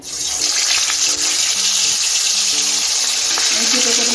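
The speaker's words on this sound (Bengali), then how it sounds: "এখন আমি মাছটা দিয়ে দিচ্ছি" Fish frying in plenty of hot white oil in a wok, giving a loud, steady hiss and sputter throughout with faint clatter underneath.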